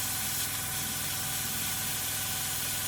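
Iwata Revolution HP-CR3 airbrush spraying unthinned acrylic paint straight from the bottle: a steady, close, broadband hiss of air that holds constant for the whole stretch, with no talk.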